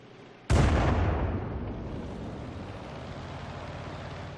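A tank gun fires once in a video game, a sudden loud boom whose rumbling tail slowly fades over several seconds. No voices are heard.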